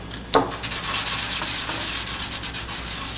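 Fine sandpaper rubbing a stone name seal in circular movements to polish it, a close, steady raspy scraping in quick repeated strokes after an initial knock.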